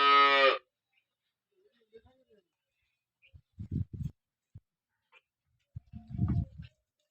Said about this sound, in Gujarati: ગાય છે લાલ કલર કલરની